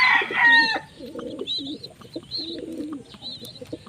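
Tate, a pigeon bred from Borga, gives soft coos and clucks close by, repeated in short bursts with a louder rush of sound at the start, and no talk over it.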